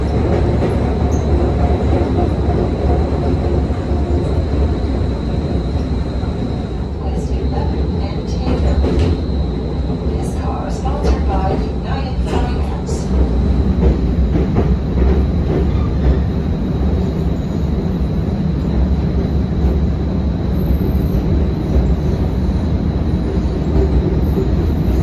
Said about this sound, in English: right after this little streetcar ride